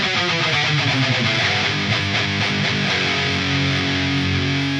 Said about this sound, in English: This is our rhythm 2 tone.